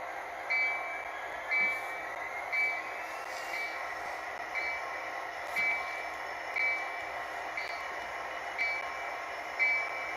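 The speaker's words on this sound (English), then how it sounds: "So this locomotive that's backing up right now, this is a new PRLX SG60M." A model PRLX SG60M locomotive backs up slowly along a layout, giving a steady rolling hum with a faint high whine and regular soft clicks from the track joints roughly every second.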